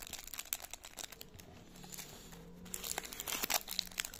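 Dragon Ball Super trading card pack wrapper being torn open and crinkled, soft close crackles and crumples in bursts, fairly quiet, with no voice over it.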